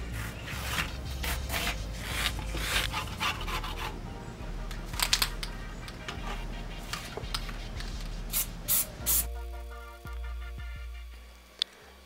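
3M 80 adhesive is sprayed onto trim panels of a BMW E46 sedan, giving a steady, close hiss with a few rattling pulses. The hiss cuts off near the end, leaving quieter handling noises and a single sharp click.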